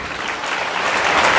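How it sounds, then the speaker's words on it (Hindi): Loud, sustained applause from a church congregation during a Hindi Christian sermon, dense clapping that builds slightly toward the end with no speech over it. "जोरदार ताली बजा के"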